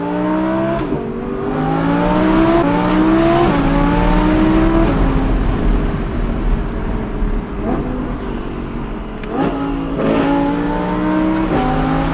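A loud Audi R8 V10 engine with a titanium exhaust revs through rising gear pulls, its sharp exhaust howl climbing and dropping with crackles between shifts.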